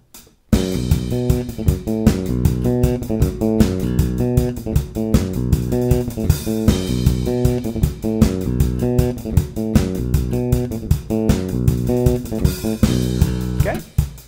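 Electric bass playing the riff from a song, in 4/4 over a drum backing track; driving repeated notes with a steady pulse, loud and uninterrupted, no voices.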